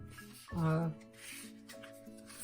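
A folded paper card being burnished along its scored crease, a soft, close rubbing stroke lasting about half a second followed by faint quieter rubbing.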